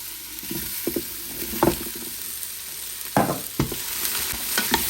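Vegetables go into a hot Instant Pot and are stirred: a low continuous sizzle broken by several sharp scraping and clanking hits of the spoon against the pot, with no talking.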